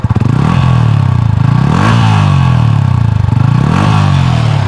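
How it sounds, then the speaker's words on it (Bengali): A motorcycle engine and exhaust run loud and close, a throbbing idle repeatedly revved up and eased back in several rising and falling swells. "ইঞ্জিনের সাউন্ডটা শুনুন, এই হচ্ছে ইঞ্জিনের সাউন্ড"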